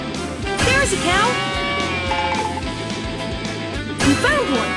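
Cartoonish cow moos with a wavering, bleat-like pitch sound in a Paw Patrol video game, repeating several times over steady game music while character voices talk.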